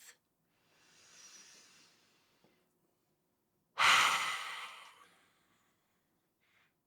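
A deep breath taken during a seated chair yoga stretch for the neck and shoulders: a soft, slow inhale, a pause, then a louder, close, breathy exhale that fades away, with no talking.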